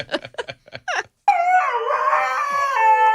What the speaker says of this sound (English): Is this the dog getting his nails clipped? These are huskies.